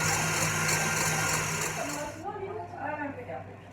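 A kitchen robot mixer whips egg whites with a loud, steady motor whir for about two seconds, then cuts off as a person starts talking.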